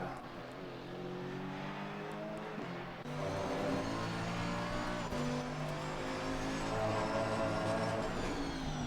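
A Mercedes-AMG GT2 race car laps Paul Ricard in Assetto Corsa Competizione, its engine note rising and dropping through gear changes with tire noise, steady and moderately loud with no talk.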